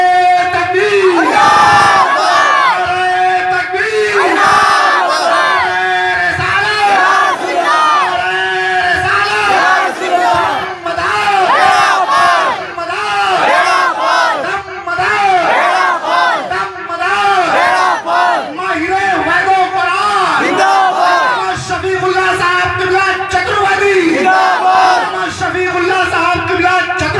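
A large crowd at a religious jalsa for an Urs gathering in Kintoor shouts takbir slogans in unison, loud, sustained and repeated in rhythmic waves of massed voices.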